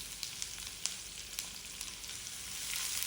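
Green chilies and long-sliced onion fry in a pan with a steady hiss, broken by small crackles and pops, heard close at moderate volume.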